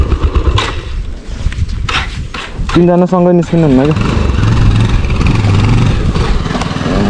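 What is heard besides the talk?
NS 200 motorcycle engine revving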